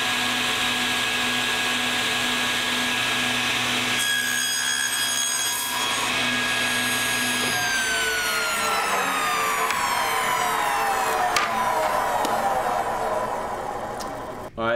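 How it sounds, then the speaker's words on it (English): A table saw spinning up in a wood shop and cutting wood stock fed on a sled, a loud sustained whine whose pitch drops as the blade bites and then slows after the cut. "Okay, so we'll turn the saw on,"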